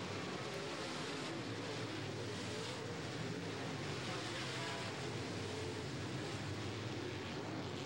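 Late model race cars run three wide around Limaland's tight bullring, a dense, continuous roar of engines that holds steady and loud, blurred by wind-like broadband noise.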